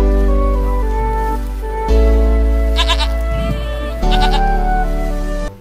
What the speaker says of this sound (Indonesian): ini ternyata kambing